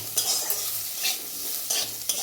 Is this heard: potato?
yes